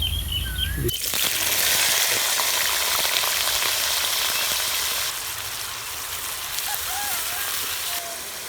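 Chopped onions hit hot oil already frying cumin seeds and green cardamom, bursting into a loud, steady sizzle that eases slightly partway through, with a few faint clinks of stirring.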